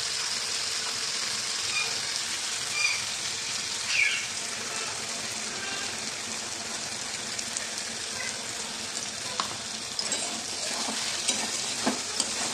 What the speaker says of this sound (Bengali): এই পর্যায়ে এসে বন্ধু এবার আমি পোস্ত বাটাটা ঢেলে দেবো।